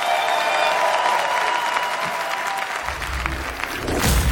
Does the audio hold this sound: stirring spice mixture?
no